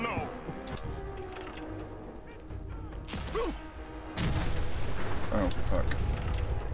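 A Fat Boy launcher explosion in the Fallout 4 video game lands as a heavy rumbling boom that swells and sustains, preceded by scattered gunfire and impacts, with players talking over it.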